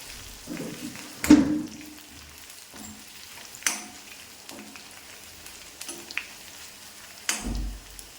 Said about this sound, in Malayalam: ഇഞ്ചി മൂത്തു നമ്മുടെ ചെറിയ ഉള്ളി നന്നായിട്ട് മൂക്കണം